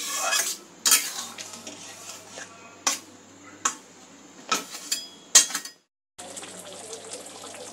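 A spoon clinks and scrapes against a pot as tomato chicken with chicken stock simmers, with several sharp metallic knocks over a low bubbling hiss, close and moderately loud.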